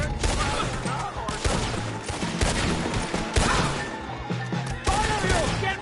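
Dense volleys of gunfire in a PS4 video game form a continuous run of sharp, overlapping shots and impacts at close range.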